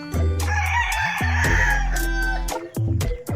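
A seven-month-old gamefowl rooster, a Black Velcro and Hatch cross, crows loudly and close by in several strong, drawn-out calls with brief breaks between them.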